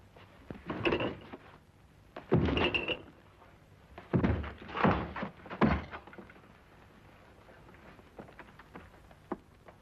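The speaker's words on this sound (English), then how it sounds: "Force the door open." Several heavy thuds and bangs at close range as a door is forced open, arriving in uneven bursts, followed by a quieter stretch with faint rattling.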